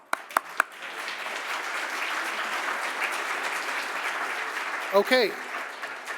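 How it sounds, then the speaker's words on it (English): Audience at a lightning talks event applauds a speaker after his talk, a dense, steady wash of clapping sustained for several seconds, with someone speaking briefly near the end. "Another round of applause for Lee."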